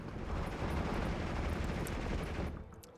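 Artillery fire in the Steel Division II war game roars as a dense, continuous rumbling barrage of overlapping blasts that holds loud for over two seconds, then fades abruptly.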